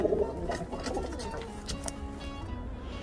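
Pigeons in a home loft coo softly and steadily at close range, with a few brief chirps mixed in and faint background noise.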